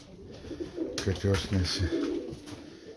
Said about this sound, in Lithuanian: Va, paukščiai.